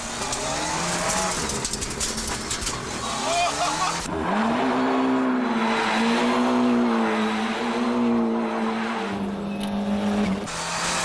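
Ford Puma rally car engine revving hard and accelerating, a loud close roar that climbs through quick gear changes, with tyre squeal mixed in.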